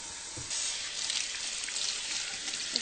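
Hands being washed with soap under a running kitchen tap, a steady close stream of water splashing in a sink with small trickles and drips, no talking.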